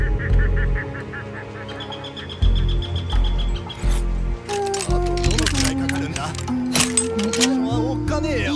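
Honking bird calls from the stealth video game Shadow Tactics: Blades of the Shogun ring out over game music and effects, with voices speaking at times.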